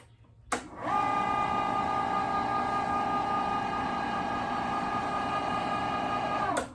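An electric meat grinder with an auger switches on and runs steadily for several seconds with a loud, sustained motor whine. It stops abruptly at the end, and there is no talking.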